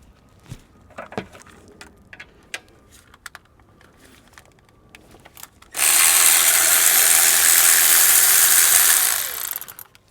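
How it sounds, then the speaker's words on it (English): A 13 mm socket ratchet loosening an idler pulley on a GM OBS truck's Vortec V8 gives scattered close clicks, then a loud, steady whirring burst lasting about three and a half seconds before it stops abruptly. "we're going to try to take a 13 millimeter socket and we're going to remove this idler pulley"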